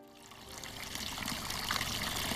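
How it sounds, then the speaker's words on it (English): Water from a mountain spring in Puerto Rico trickles and pours in a close, continuous babble that swells a little as it goes. "This mountain spring was one of the few sources of fresh water around Adjuntos"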